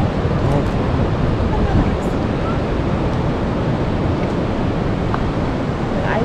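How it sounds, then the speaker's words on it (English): Broadband rushing surf of Pacific Ocean waves at Pismo Beach, California fills the clip, loud and continuous, with wind buffeting the microphone. "I love hearing the ocean."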